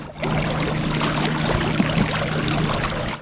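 A Black Cat Battle Boat belly boat driven by an electric motor moves across water, with steady splashing, churning and a low motor hum heard close throughout.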